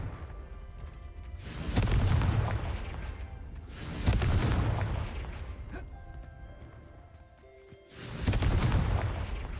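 Confringo fire spells blast in the Hogwarts Legacy video game: three separate booming explosions, each with a rumbling tail, spaced a few seconds apart over quieter game ambience.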